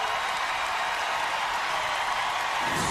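A college women's basketball crowd at a South Carolina game applauds a defensive block, steady dense clapping and cheering filling the whole moment with no break.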